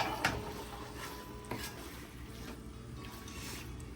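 Chicken pieces and spices for chicken haleem being sautéed and stirred in a pan, with a steady soft sizzle and scraping stirs, a few sharper clinks of the spoon against the pan, close by and with no talking.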